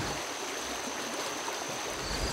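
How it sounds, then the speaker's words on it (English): Cedar Creek, a stream flowing into the North Fork of the Shenandoah River in Virginia, gives a steady, broad rushing and bubbling wash of water, continuous and even throughout, with no voices. "a stream called Cedar Creek bubbles into the North Fork of the Shenandoah River"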